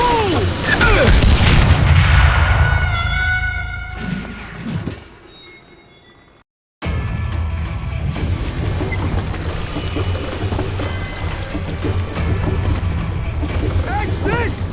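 Dynamite blasts in the Western shooter Call of Juarez: Gunslinger, a loud booming burst with a long rumbling tail that drops away into a second of silence, then heavy rumbling battle noise returns with voices talking over it.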